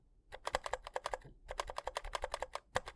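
Quieter new computer keyboard being typed on, a quick irregular run of crisp, solid-sounding key taps with a brief pause midway, close and clear with no talk.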